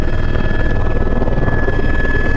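Helicopter on the ground at Lukla in the Everest region, its rotor and engine making a steady, loud, continuous thrum with a constant high whine throughout, no voices.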